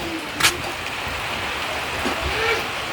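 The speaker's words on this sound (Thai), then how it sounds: "ใช่ก็ฝนตกเลย" Steady rain falls throughout, a dense even hiss with one brief sharper knock near the start and faint distant rumbles beneath.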